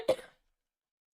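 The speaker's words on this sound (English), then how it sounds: "And sorry, cough," One short, quiet cough, close by, followed by silence.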